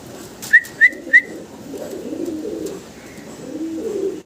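Large white pigeons sitting as a pair give three short, clear calls in quick succession near the start, then stay quiet over a low, steady background murmur.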